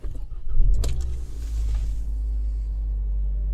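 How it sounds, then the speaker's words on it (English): A 2018 Hyundai Elantra with a misfire from an out-of-spec spark plug cranks and starts, then settles into a loud, low, steady idle rumble close by. "let's start this vehicle and see if we can detect that misfire"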